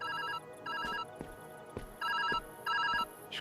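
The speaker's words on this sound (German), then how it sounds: "Oh, Telefon." A telephone rings in the puzzle game Viewfinder with repeated electronic trilling bursts in a regular on-off pattern, fairly quiet under soft game ambience and a few clicks.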